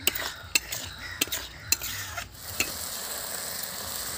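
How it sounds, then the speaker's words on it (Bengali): Cauliflower, potato and pea curry bubbling in a pot over a low flame, a steady faint sizzle and simmer broken by several sharp clinks of a stirring spoon against the pot, with no talk. "বন্ধুরা দেখুন কিরম ফুটছে"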